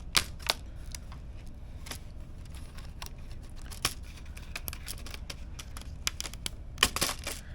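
Back cover of an Asus Zephyrus G14 laptop being pried off, with scattered sharp clicks and plastic snaps at close range, a few louder cracks near the start and end over a quiet background, and no talking.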